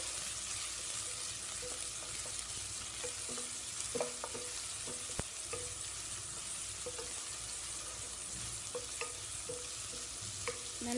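Sliced onions sautéing in hot oil with cardamom, cloves and cinnamon for a veg chicken korma, a steady broad sizzle with occasional soft clinks of a stirring spoon, close and continuous with no voices.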